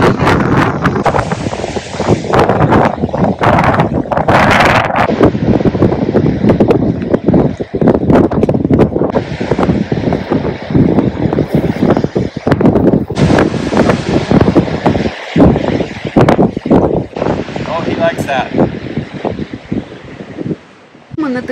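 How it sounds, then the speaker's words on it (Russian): Strong coastal wind buffets the microphone over the steady wash of ocean surf along a scenic seaside road, loud and continuous throughout with no talking. "Океан такой сильный, ветер сильный."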